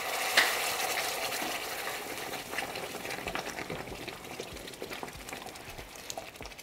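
Red chile pozole sauce meets hot oil in a pot and fries with a bubbling, spattering hiss, starting with a sharp splash and settling into a steady, gradually softening sizzle close by, with no voices.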